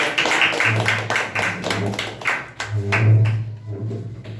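Audience applause welcoming a speaker named Kunal to the stage at a talk on the importance of a guru, a dense run of many hands clapping, steady and fairly loud for several seconds before tapering off.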